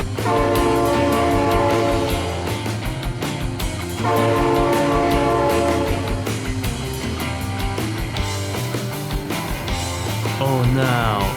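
In the BeamNG driving game, a train horn blares in long loud blasts while a passing train rumbles and clatters steadily throughout, close and dominant.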